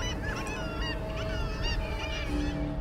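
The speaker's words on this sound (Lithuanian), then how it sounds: "girdisi tik šimtų paukščių klegesys." Hundreds of geese-like birds nesting in an abandoned Soviet-era building in an Arctic town keep up a dense, continuous clamor of overlapping honks and calls, close and loud throughout.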